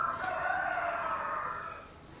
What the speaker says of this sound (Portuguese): Olha lá, os galos estão a todo aí.